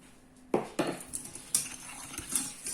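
A utensil clinks and scrapes against a bowl or pan while ingredients for a banana sweet are mixed with sugar, a few sharp knocks followed by lighter irregular stirring taps, close and alone.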